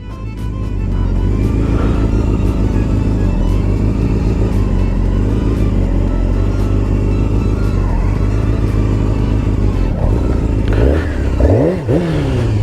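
A sport motorcycle engine revs hard and loud without pause during slow slalom riding, a dense steady roar with rumble and clatter, then sharp rising and falling throttle blips near the end.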